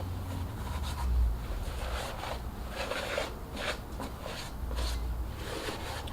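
A rag cut from old t-shirts wiped across a table surface, soft repeated rubbing and scraping strokes at close range, fairly quiet with a few heavier low thumps.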